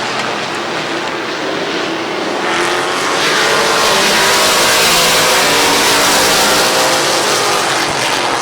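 The number 25 race car of Way roars past on a speedway at the fall classic, its loud engine swelling as it nears and holding a broad, rushing roar.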